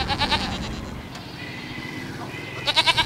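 Goats bleat in short, repeated calls at the start and again near the end of a busy market scene at Eid, over a steady, noisy background.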